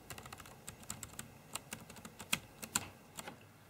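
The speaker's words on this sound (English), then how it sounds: "So now I'm going to type using the keyboard." Someone types on the keyboard of a Gigabyte P35W V2 laptop, producing quick, irregular clicks and taps close to the mic, with a few sharper, louder keystrokes standing out among the softer presses.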